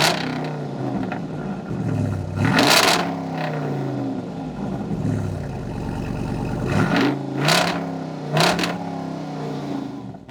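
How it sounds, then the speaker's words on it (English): Exhaust of a 2022 Jeep Wrangler 392 V8, heard up close as a deep rumbling idle broken by several sharp throttle blips that rise and fall, with a sustained low growl in the middle. "So let's take another listen to the 392 exhaust."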